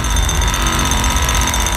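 A mechanical drill rumbles in a LEGO Star Wars video game cutscene, a loud, steady, rapidly pulsing jackhammer-like drone with engine-like vibration and no voices.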